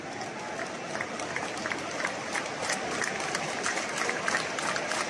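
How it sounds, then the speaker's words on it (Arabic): An audience applauds after the Wydad players' win in Tunisia: steady, faint clapping from a crowd, dense and continuous throughout. "تصفيقات من الحضور يعني بعد فوز لاعبي الوداد الرياضي"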